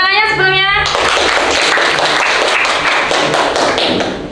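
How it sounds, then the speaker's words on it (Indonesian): A classroom audience breaks into dense, steady applause for a student about to present a folk tale. The clapping starts abruptly after a brief tonal lead-in, stays loud throughout and fades slightly at the end. "Oke, tepuk tangannya sebelumnya"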